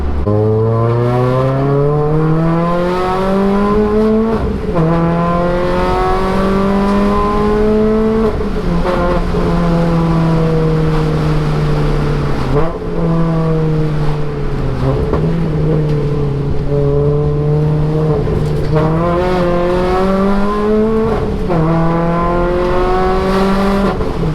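A road-legal Renault Clio Mark III rally car with a six-speed gearbox is driven hard. The engine drones loud and close, climbing in pitch through repeated gear changes for the whole stretch.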